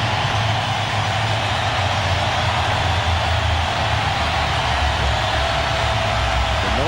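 A loud, dense roar from a packed baseball crowd at Safeco Field during a 2000 ALCS playoff game between the Mariners and their opponent, a steady sustained wall of noise with no breaks.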